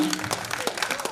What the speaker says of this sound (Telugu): సార్ చప్పట్లతో ఆహ్వానిద్దాం.